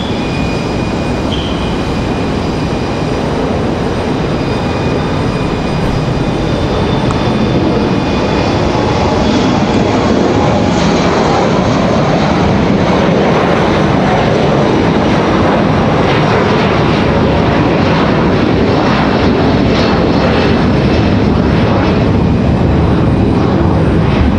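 An airliner rotating early on takeoff at Raleigh-Durham International Airport, its engines giving a loud, sustained roar that holds steady throughout, with no talking.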